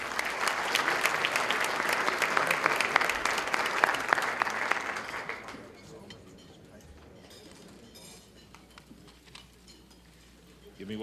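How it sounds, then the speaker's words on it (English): Applause at a county chamber luncheon for the event sponsors, a full round of clapping from a large room for about five seconds that then fades to faint clatter and room murmur. "Again, a round of applause for all of our sponsors."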